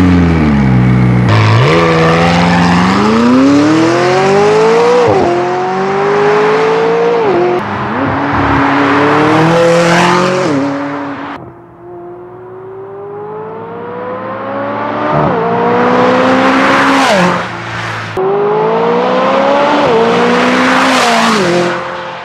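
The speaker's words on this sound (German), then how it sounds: "jetzt gibt es erstmal einen schönen Start vom 600 LT und dann noch ein paar Flybys" A McLaren 600LT Spider pulls away and then makes several loud flybys, its engine climbing through gears in rising surges, fading briefly between passes before roaring close again.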